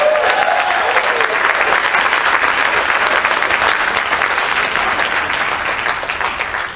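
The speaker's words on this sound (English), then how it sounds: "Give him a round of applause." An audience at a live-streamed community gathering applauds steadily, a dense, loud wash of clapping that holds for several seconds and then fades slightly at the end.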